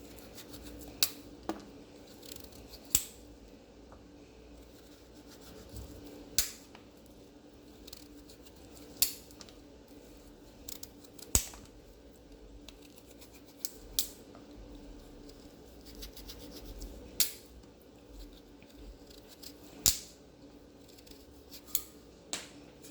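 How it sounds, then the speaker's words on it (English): A small knife cuts into pumpkin on a board, giving sharp, irregular clicks and taps every second or two over a quiet background, with no voices. "I use a smaller knife today because I know I'm going to be doing this pumpkin."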